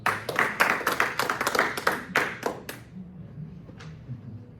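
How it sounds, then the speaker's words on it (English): A small Toastmasters meeting gives the Toastmaster a round of applause, a handful of nearby people clapping in a sparse, uneven patter for under three seconds before it stops and a voice begins. "Let's give him a round of applause."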